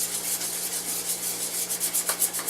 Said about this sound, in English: we're going to blend all this together with our whisk